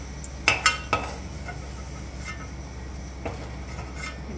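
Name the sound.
garlic being sautéed and stirred in a pan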